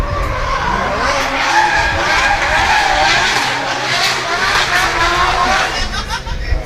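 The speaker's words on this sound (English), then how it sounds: "taking all of the advantage of this dry weather to smoke up some tyres" Drift car tyres skid and squeal continuously at close range during dry-weather Pro-Am qualifying at the British Drift Championship, Buxton, a loud sustained screech with engine noise beneath and a commentator's voice over it.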